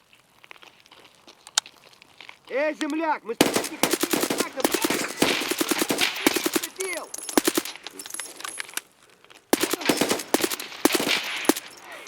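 Rapid bursts of automatic gunfire in a tense shooter video game, loud and close, with dense volleys of shots cut by brief pauses and a short electronic tone near the start.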